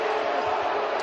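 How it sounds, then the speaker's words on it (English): Basketball arena crowd at a San Diego State versus Fresno State college game, a dense sustained roar of voices reacting with disapproval, loud and steady throughout with no single voice standing out. "Crowd doesn't like it."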